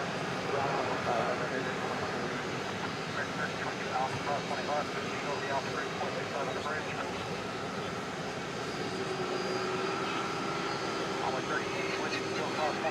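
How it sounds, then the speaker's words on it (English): A Boeing 787-9 Dreamliner departing at night from DFW Airport, bound for Istanbul, gives off a steady, fairly distant jet roar. The broad hum holds for the whole stretch with little change in level. "The Dreamliner Dash 9 going back to Istanbul."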